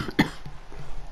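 A woman gives a single sharp, close cough, followed by faint throaty after-sounds and quiet background.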